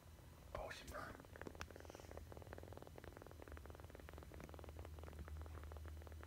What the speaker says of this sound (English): It's purring.